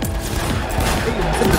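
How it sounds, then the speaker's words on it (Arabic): Pistol gunfire rattles in the Cyberpunk video game, a dense, continuous run of loud overlapping shots with clatter, filling the whole moment up close. "مسدس هذا"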